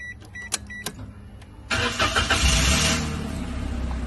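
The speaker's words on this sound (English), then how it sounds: "So now I'm going to start the engine." A car engine is started during a brake system check in a lab: a few clicks and taps, then the starter cranks and the engine catches, revving briefly before settling into a steady, close idle.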